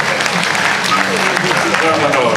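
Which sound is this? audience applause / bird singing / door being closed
audience applause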